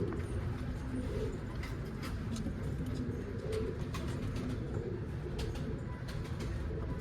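A young street pigeon, caught after hiding under a car, coos in low, soft, repeated murmurs against a steady rumbling background.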